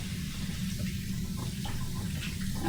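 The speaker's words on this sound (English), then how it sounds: "we're just rinsing, and now I can dry my hands" Water runs steadily from a kitchen tap as hands are rinsed beneath it, a close, even splashing hiss lasting the whole moment with no talk.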